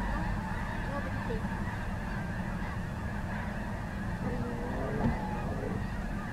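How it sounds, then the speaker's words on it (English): A large flock of geese honks continuously from a moderate distance while driving, a steady chorus of overlapping calls with a faint vehicle rumble underneath. "man, that is a lot of geese."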